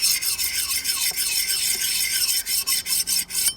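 A tool edge rubbed with light strokes across a sharpening stone, a steady rasping scrape repeating in short passes, close and clear with no talk.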